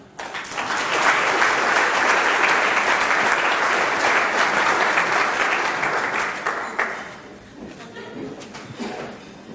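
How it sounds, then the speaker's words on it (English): A large audience at an evening awards event breaks into loud, sustained applause that swells quickly, holds as a thick clapping roar for about six seconds, then thins into scattered claps with faint voices. "with a massive round of applause"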